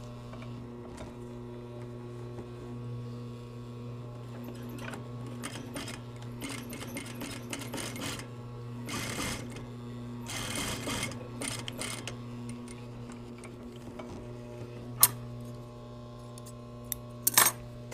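A sewing machine stitches the center back seam of a pair of yoke pants, a steady mechanical whir with rhythmic needle clatter, broken by brief bursts of faster stitching and a few small metallic clicks.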